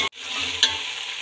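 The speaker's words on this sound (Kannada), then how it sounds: "ಹಸಿಮೆಣ್ಸಿನ್ಕಾಯಿನ ಎಣ್ಣೆಲಿ ಚೆನ್ನಾಗಿ ಫ್ರೈ ಮಾಡ್ತಾ ಬರಬೇಕು" Green chilies fry in hot oil in a pan, a close, steady sizzling hiss with a brief break near the start and a single light scrape partway through.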